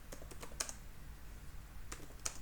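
Someone types code on a computer keyboard, a close run of light, quick key clicks in irregular bursts with a couple of sharper taps, alone without talk.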